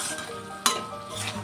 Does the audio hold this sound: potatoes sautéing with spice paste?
yes